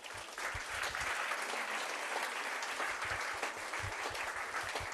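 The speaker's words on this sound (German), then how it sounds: "Begleiten wir uns auf die Bühne mit einem kleinen Applaus." Steady, even applause from an audience at a village founding ceremony fills the space for several seconds as guests are welcomed onto the stage, a continuous wash of claps with no talking.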